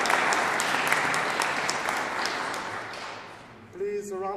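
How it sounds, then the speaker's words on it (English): A church audience at a Friday recital applauds in a dense, steady wash of clapping that fades near the end before a brief tonal musical note enters. "So please, round of applause."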